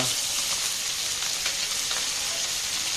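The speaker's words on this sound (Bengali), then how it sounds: "ফুল মাছ ভাজা হচ্ছে রান্না করা হচ্ছে" Fish sizzling as it fries in a pan while a home meal is cooked, a steady close crackle and hiss with no talk over it.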